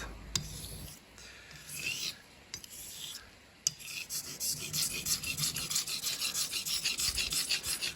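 Close, raspy scraping of a straight razor blade across an Arkansas whetstone while setting a bevel, first in a few separate strokes, then in quick steady back-and-forth strokes.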